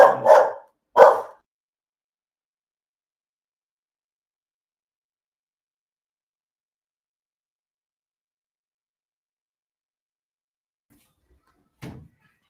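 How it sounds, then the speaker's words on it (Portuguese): Two loud, sharp dog barks in quick succession at the start, followed by long silence and a faint brief knock or bump near the end. "o cachorro ficou doido ali"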